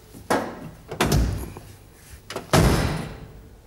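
During car body repair, a vehicle door is swung shut three times in a row, each close a solid thunk followed by a short ringing decay, close by and without talk.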